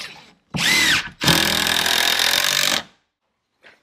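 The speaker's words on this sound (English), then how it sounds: "So now we can finish mounting this with our trusty impact drill." An impact drill drives screws while framing a door, whirring in two bursts, a short one followed by a longer hammering run of about one and a half seconds, loud and close.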